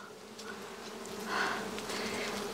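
Honey bees buzz around an opened hive during an inspection, a steady droning hum with individual bees swelling louder as they pass close by, no voices.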